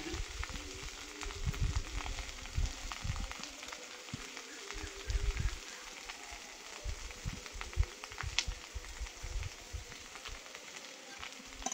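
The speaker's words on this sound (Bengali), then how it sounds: "লবণ হলুদ দিয়ে আলুটা কষিয়ে নেব।" Potatoes sautéing with salt and turmeric in a pan over a village-style cooking fire, a faint steady sizzle with soft scattered crackles throughout, no talking.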